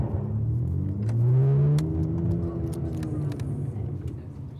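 A Ferrari Testarossa's engine rises in a brief rev and settles to a rumbling idle-like drone, heard close inside the car over a few seconds.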